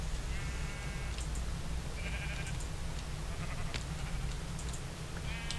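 Sheep in a video game bleat several times in short, wavering calls over a steady low background hum, fairly quiet and alone without talk.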